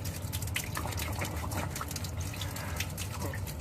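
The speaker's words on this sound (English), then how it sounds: "Cold water." Cold water runs steadily from a tap at a sink during a straight razor shave, a continuous close hiss and patter with no other sound.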